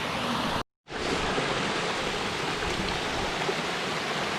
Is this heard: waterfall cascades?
yes